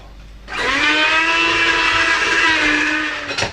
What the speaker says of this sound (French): On va maintenant les passer au mixeur